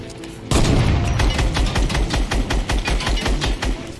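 Rapid bursts of Fortnite gunfire erupt after a brief pause, loud, close shots in quick rhythmic succession, like automatic weapons.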